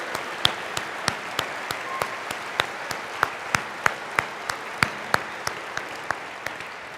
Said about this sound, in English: let's give a big round of applause for all of our volunteers here today